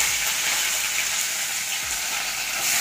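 Mustard seeds and curry leaves sizzle in hot oil as a dense, steady, loud hiss close by, with no speech over it.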